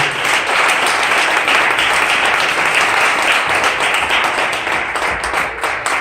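A church congregation breaks into loud, sustained applause at an evening service, a thick continuous roar of many hands clapping close by for several seconds.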